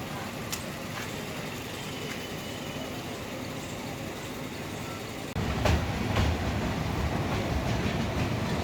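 Inside a meter gauge train on the Junagadh to Sasan Gir line, a steady rolling rumble and rattle of the carriage runs throughout, with faint clicks and a slight rise in loudness partway through.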